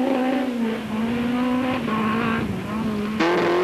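A 1993 Citroën ZX 16 valve rally car on a French championship rally, its engine revving steadily at high pitch from onboard, with a gear change near the end.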